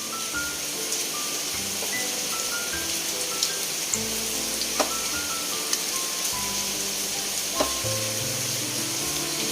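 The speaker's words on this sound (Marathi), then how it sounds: "आपलं तेल तापलेलं आहे, तर आपण भजी सोडूया" Corn pakoda (bhaji) fry in hot oil with a continuous close, loud sizzling hiss, broken by occasional light clicks and pops, with no talking.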